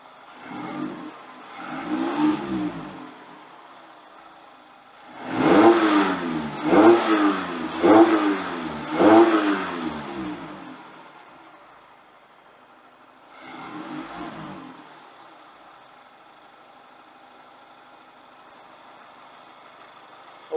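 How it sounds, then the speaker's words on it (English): A car engine that has just had its throttle body cleaned revs up in several bursts, with a short blip, then a cluster of quick rising revs, and a final rev. Each burst drops back to a faint idle. "Let me rev it up a minute"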